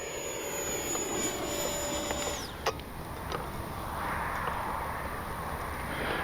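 E-flite 70mm Viper RC jet flying at full speed on regular LiPo packs, a loud steady electric ducted-fan whine and roar holding throughout, with a high tone sweeping down midway as it passes.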